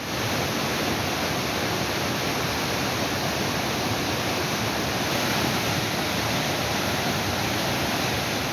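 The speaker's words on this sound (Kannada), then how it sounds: "ಸಕಲೇಶಪುರ ತಾಲೂಕಿನಲ್ಲಿ ಸುರಿಯುತ್ತಿರುವ ಮಳೆಗೆ ಮೂಕನಮನೆ ಜಲಪಾತ ಭೋರ್ಗರೆದು ಹರಿಯುತ್ತಿದೆ" Mookanamane waterfall near Sakleshpur thunders in full flow after heavy monsoon rain, a loud, constant roar of crashing water that fills the whole span without pause or voices.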